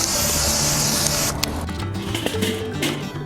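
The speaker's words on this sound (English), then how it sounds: "I like to oil the grates up with Pam, and that's what we're using today" Pam cooking oil sprayed onto the grates of a Weber kettle grill, a steady hissing spray for about a second, followed by quieter crackles and ticks from the hot grill.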